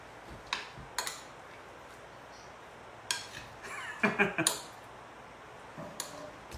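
A spoon mixing shrimp ceviche in a bowl, a few soft scattered clinks and scrapes spaced unevenly, with a quick cluster of light taps near the middle, quiet and close.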